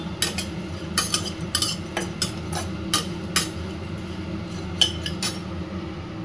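Dry puffed rice being roasted and stirred in a pan at home, giving a steady rustling hiss with repeated sharp scraping clinks of the spatula against the metal pan.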